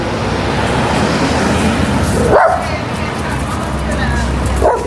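A dog barks repeatedly nearby at children and a baby stroller, sharp yips over steady traffic noise from a road, with a person talking at times.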